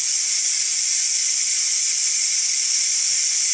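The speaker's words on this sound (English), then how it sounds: "hit this valve here to release pressure, and let's go let it go" Steam hisses steadily from the pressure release valve of a Ninja Foodi pressure cooker holding baby back ribs, a loud, continuous bright rush that stays even and unbroken throughout, with no talking.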